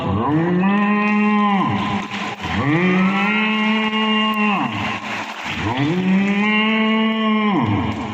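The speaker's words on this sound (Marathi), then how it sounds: "गाय आपल्या वासराला दूध पिण्यासाठी बोलावत होती" A cow calling her calf to suckle moos loudly three times, long drawn-out lowing calls with short pauses between them, close by and clear.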